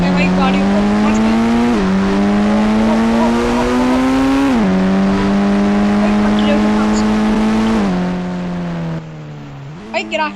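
A motorbike in the Indian Bike 3D video game drives at speed, giving a steady, loud engine drone that rises and drops with gear shifts several times before easing off near the end.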